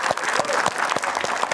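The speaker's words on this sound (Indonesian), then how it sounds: "Tepuk tangan dong buat Mbak Linda" Audience applause for Mbak Linda at an Indonesian children's storytelling and origami event, a dense burst of many hands clapping at once, loud and close, with no talk over it.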